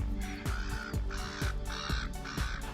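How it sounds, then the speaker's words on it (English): Seagulls call near boats at a harbour, loud repeated harsh cries in a steady rhythm about every half second, close by with no talk. "There's quite a lot of seagulls on that boat there."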